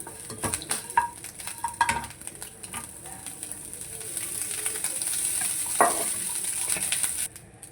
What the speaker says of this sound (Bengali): এটা নুন দিয়ে এটা নাড়াচাড়া করে ভাতটা দিয়ে দেবো